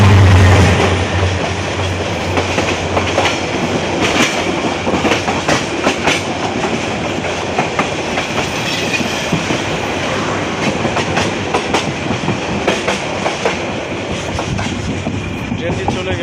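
A train rolls past at close range near Dhaka airport at night, a steady loud rumble with rhythmic clickety-clack of wheels over rail joints throughout.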